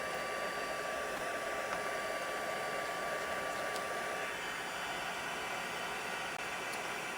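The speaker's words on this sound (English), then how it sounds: "Once you have your heat tool running for a little bit, it really does heat up the powder pretty fast." A craft heat tool blows steadily while heating embossing powder, giving a constant, even hiss-like rush of air at close range with no talking.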